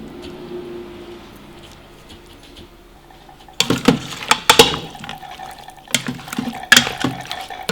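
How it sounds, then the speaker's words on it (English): Vegetable broth is poured into an Instant Pot over chicken and barbecue sauce, starting with quiet background and then a close burst of splashing, gurgling liquid with irregular clinks. "we're going to add the vegetable broth"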